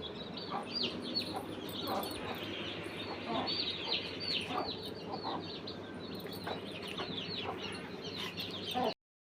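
A flock of chicken chicks chirps for grains, high thin peeps overlapping in a steady, busy chorus, fairly close, with faint background noise throughout.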